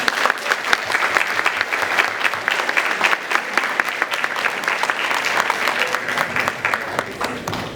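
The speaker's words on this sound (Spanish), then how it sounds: "Entonces, un fuerte aplauso para ellos." Hearty audience applause at an anniversary conference, a dense crackle of many hands clapping steadily for several seconds with no voices over it.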